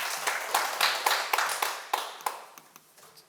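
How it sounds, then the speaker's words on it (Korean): A small audience at a Sunday lecture, where a monk is teaching, claps briefly and faintly in a room; the loose, separate claps taper off and then stop. "박수 한번 치세요."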